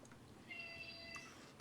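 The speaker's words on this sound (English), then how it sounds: "Sounds like my cat is hungry again" A house cat meows somewhere in the room during a tabletop role-playing game session. It gives a single drawn-out meow, faint and a little distant, with no talk over it.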